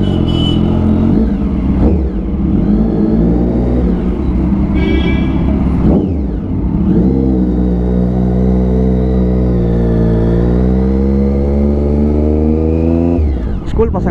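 A Triumph Daytona 675 motorcycle with a modified exhaust idles loudly and revs, its engine note rising and falling over a sustained close roar. Someone talks over it.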